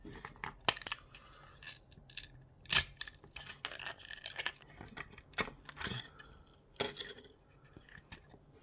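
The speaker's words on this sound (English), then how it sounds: "for repair the part you just need to rip these off like so." Built-in support material snapped and ripped off a 3D-printed part, giving sharp plastic cracks and clicks in irregular bursts, close and fairly quiet with no talking.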